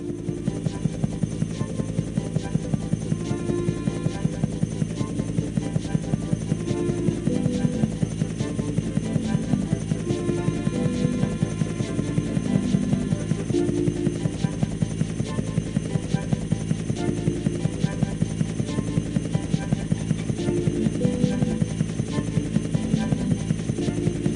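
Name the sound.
biplane flying, from Thomas & Friends video game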